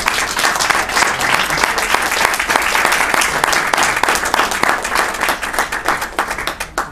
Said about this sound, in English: I think we owe the filmmakers a round of applause.